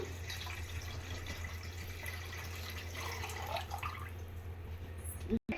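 Water is poured into a pot holding a homemade mehndi mixture, a faint, soft trickle and splash against a quiet background hum.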